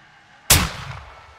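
A single sharp gunshot in Call of Duty: Modern Warfare II cracks out loud and close, with a short rumbling tail that fades over about a second against quiet background noise.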